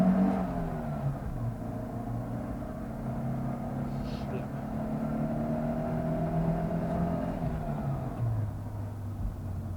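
A 1989 Mercedes-Benz W124 230E in original low-mileage condition pulls under acceleration, its engine note rising steadily in a smooth, sustained drone heard from inside the car, with a voice speaking over it.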